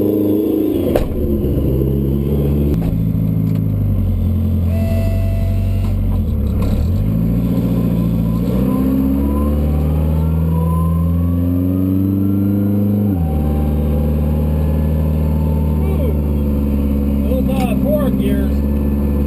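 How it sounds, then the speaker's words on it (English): A big-turbo 1300hp AWD DSM race car accelerating hard, its engine note climbing through several gear changes with a loud, steady whine from straight-cut transmission gears, close and dominant throughout. "Straight cut forward gears in the trans usually get pretty noisy when I do a pass like that"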